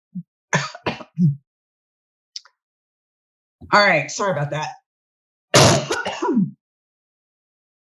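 A man coughs and clears his throat in a few short, sharp bursts while recording a contractor business podcast, then speaks briefly in a quiet room.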